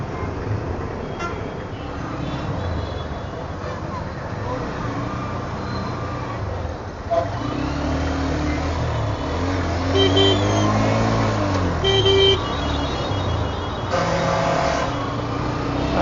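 Busy city road traffic in Madurai during Diwali shopping, with steady engine rumble from cars and buses and several distinct horn toots, some repeated, close by and fairly loud throughout.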